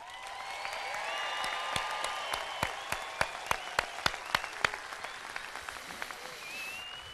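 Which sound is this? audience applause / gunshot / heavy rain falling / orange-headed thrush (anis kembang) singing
audience applause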